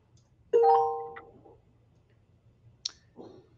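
A Windows notification chime rings out as a bright two-tone electronic tone with a short decay, followed a couple of seconds later by a faint, brief click, with no talking.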